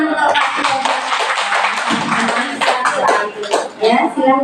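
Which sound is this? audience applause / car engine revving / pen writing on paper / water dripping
audience applause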